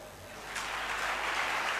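An audience at a Marathi talk bursts into applause, a dense wash of clapping that swells after a brief moment and carries on steadily.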